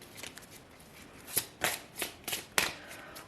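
Tarot cards are shuffled by hand in a series of quick, crisp riffling bursts, five or six short flutters close to the ear, with no talking.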